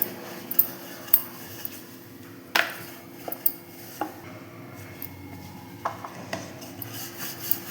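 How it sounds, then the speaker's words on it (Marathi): Egg paratha dough being rolled thin with a rolling pin on a board, heard as soft rubbing passes broken by a series of light knocks and taps at irregular intervals, close and fairly quiet. "आता मी आपण जशी रोटी लाटतो ना त्या पद्धतीने लाटून घेणार आहे"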